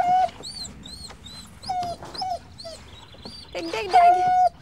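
A pug whimpers and yips in short, high, whining bursts, with a few sharper barks breaking through near the end.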